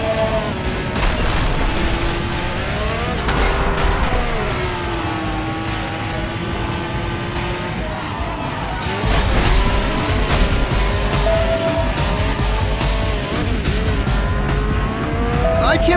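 In the racing game Driver San Francisco, a Pagani Zonda Cinque roars on continuously with shifting engine pitch and tire squeal, while game voices talk over the engine.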